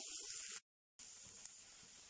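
Onions sautéing in a pan over a medium flame, a steady soft sizzle and hiss broken by a brief silent gap before the frying noise picks back up.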